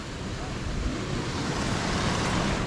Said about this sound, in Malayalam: ഓ ഇവിടെ ചെറിയ വാട്ടർഫാൾസ് ഉണ്ട്